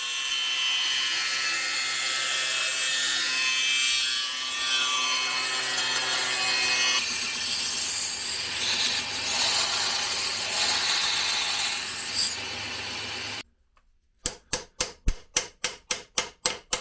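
Sawing through aluminium alloy, a long continuous grinding rasp at close range, then after a brief silence a run of about ten sharp rhythmic strokes.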